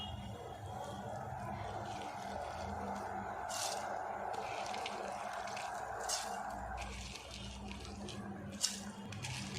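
Soaked rice drained of its water and tipped into a pot of lightly boiling coconut milk, giving a steady watery rush and splashing with a few brief clatters, close up.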